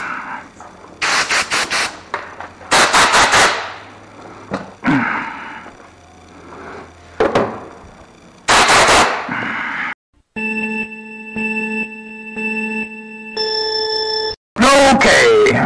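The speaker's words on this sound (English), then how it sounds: "There's a little air gun." A small compressed-air gun blasts clean Chevy spider-injection engine parts in several loud, short hissing bursts, close up, separated by someone talking and some tonal beeping.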